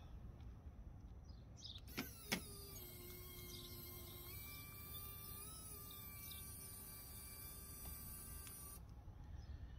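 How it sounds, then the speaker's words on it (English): A winch steadily pulling a short-wheelbase Unimog truck outdoors, giving a sustained whining drone that shifts pitch slightly and is preceded by a couple of sharp clicks, heard fairly faintly. "looks like we're going to have to winch"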